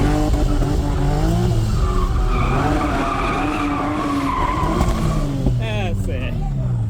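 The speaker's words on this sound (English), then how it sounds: "So now we're being shown how to drift properly by someone who does it all the time." A car drifts with tires squealing and skidding loudly under a roaring, revving engine, the screech rising and falling through the turn while people talk over it.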